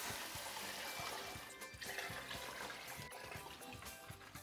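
Beef broth poured into a soup pot for French onion soup: a continuous faint splashing, gurgling pour with light irregular liquid bubbling, close up.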